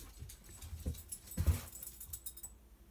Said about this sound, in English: all the noise in the background is just the dogs playing this morning.